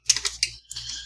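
A computer keyboard snapping out of its case during disassembly: a short run of sharp plastic clicks and clacks, a brief pause, then another cluster of clicks, close and fairly quiet.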